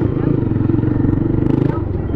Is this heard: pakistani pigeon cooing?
no